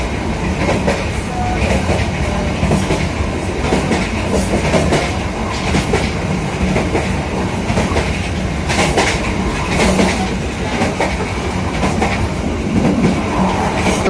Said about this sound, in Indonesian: saat ini KA Airlangga akan segera tiba di stasiun Cirebon Perujakan teman-teman, atau akan segera berhenti